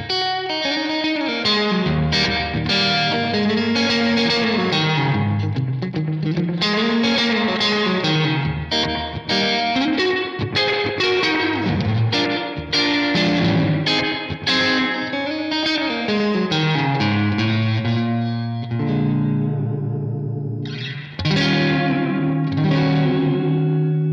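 Electric guitar played rockabilly-style through a Source Audio Collider pedal set to a very short analog delay and true spring reverb, loud bright picked notes and chords with slapback echo and a splashy reverb tail, alone without talk.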